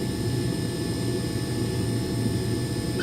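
The jet engine of a Heinkel He 162 aircraft roars steadily as a broad, constant rush with high whining tones while it is throttled down. No voices are heard.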